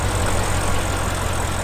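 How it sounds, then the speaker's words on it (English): An Audi RS6 with a 4-litre twin-turbo V8 petrol engine idles with a deep, steady rumble, running evenly and close by without revving. "a 4 litre V8 petrol engine, yeah? And it's got 2 turbos."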